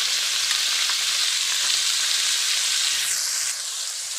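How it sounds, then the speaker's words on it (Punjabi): Onions frying in mustard oil in a steel pan give a loud, even sizzle that softens slightly near the end. "ਤੇ ਹੁਣ ਆਪਾਂ ਪਿਆਜ਼ ਪਾਉਣੇ"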